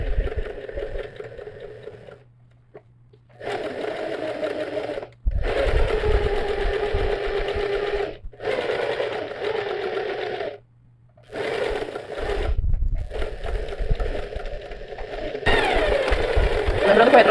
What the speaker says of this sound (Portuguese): E devagar eu vou costurando em cima dessa linha que eu fiz.